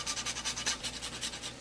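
Fresh whole nutmeg rasped on a grater for pumpkin gnocchi sauce, a rapid run of close, even scraping strokes, about ten in quick rhythm, with no talking.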